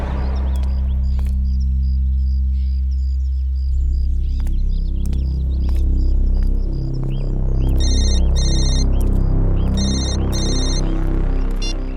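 A phone ringtone repeats in short electronic bursts of bright chiming beeps against a steady low hum and dramatic background music. The ringing goes on unanswered, in a TV crime drama scene with no talk.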